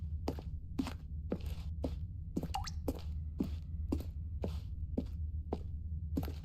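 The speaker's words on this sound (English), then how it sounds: "I heard a drip of water." Evenly spaced water drips plop one after another in The Stanley Parable, about two per second over a low steady hum, close and clear with nothing else around them.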